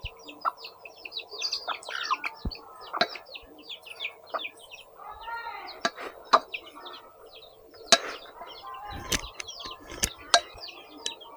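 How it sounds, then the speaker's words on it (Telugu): Chickens cluck and chirp in a Telangana outdoor setting, with scattered calls and sharp short notes coming and going at moderate distance, alongside faint background bird tweets and no voices. "కోడి కూడా చూస్తుంది, దానికి ఉల్లిపాయలు కావాలి"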